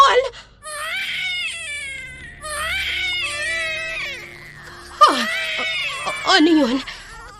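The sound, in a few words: babies crying, sound effect in a horror story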